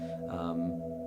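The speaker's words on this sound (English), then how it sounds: "on most reverbs, when you crank it all the way, it's set to infinity" A sustained guitar tone hangs in endless reverb, a steady droning wash with a faint swell in the middle.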